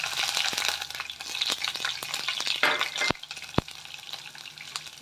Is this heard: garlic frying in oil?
yes